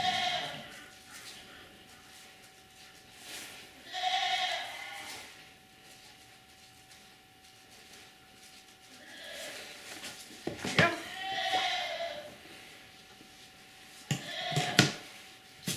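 A goat being tattooed bleats several times, loud and near, in a few drawn-out cries spread across the stretch, while people talk quietly around it and faint handling clatter comes through between calls.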